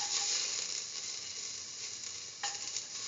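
Garlic drops into a hot pot of oil and sizzles hard, a continuous crackling hiss that flares again near the end as more is stirred in.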